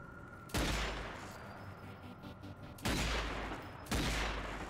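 Gunfire in Zombie Army 4 aimed at lamps: three loud, sharp shots at uneven intervals, each with a long, echoing decay ringing out between them.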